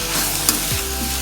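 Soya chunks with spices sizzle steadily in a hot pan, a continuous frying hiss with a brief scrape of stirring near the middle.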